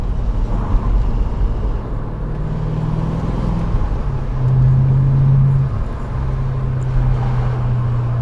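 A car engine revs loudly up close: a rumbling idle rises into a sustained higher-pitched rev, then settles back to a steady drone.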